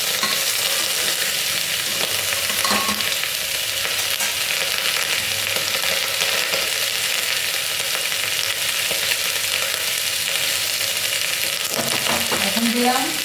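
Ingredients for mung dal fry in a pan with a dense, continuous sizzle. The sound stays loud and close throughout, with a few scraping stirs, and no voices.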